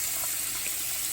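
A hotel bathroom sink faucet runs in a steady hiss of flowing water close by, continuous and even with no talking.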